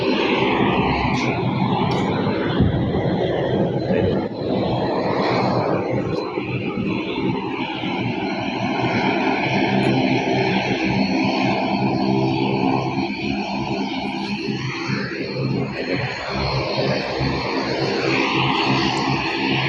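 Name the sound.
helicopter departing with the governor of Leyte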